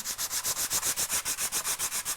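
Rapid, even back-and-forth rasping of sandpaper scrubbing cured epoxy by hand, close up and steady in rhythm, the paper not clogging.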